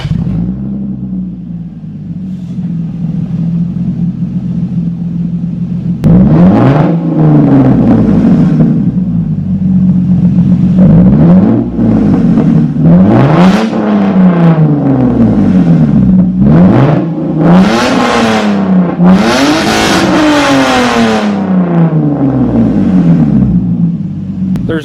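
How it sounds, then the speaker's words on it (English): Lexus IS300 exhaust revving hard through a cheap muffler or blast pipe, starting with a low idle rumble, then a run of loud repeated throttle blips that climb and fall, close and very loud. "get a few exhaust clips of what this thing sounds like right now"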